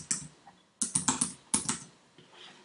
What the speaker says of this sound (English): I'm just going to type a word.